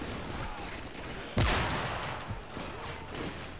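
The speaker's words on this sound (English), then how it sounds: "Oh, someone's shooting at me." Gunfire in the video game Modern Warfare 3: a sharp, loud burst of shots that decays into a rattling tail, with more distant firing continuing under steady game ambience.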